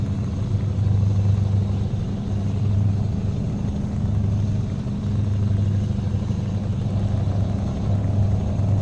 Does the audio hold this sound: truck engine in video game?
yes